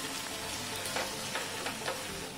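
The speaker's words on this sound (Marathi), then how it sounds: "अजून कांदा शिजायचा आहे." Onion frying over slightly lowered heat until reddish for a Koli-style fried dish, a dense, steady sizzle with faint stirring scrapes rising now and then, with no voices.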